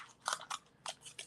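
Scissors trimming a jagged edge off scrap paper for a fold-out card, four or five quick crisp snips spaced unevenly, close and quiet with no talking.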